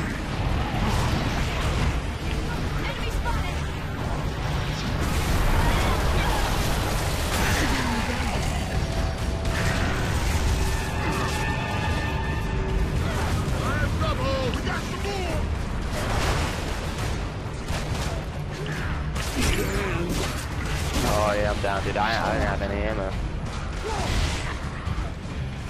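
Grenade blast and battle noise in the Gears of War: Judgment campaign, a dense continuous roar of explosions, crashes and mechanical clatter filling the whole stretch at steady loudness.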